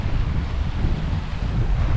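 A river flows steadily beside a wild campsite in the Peak District, its close, continuous rushing wash unbroken and without voices.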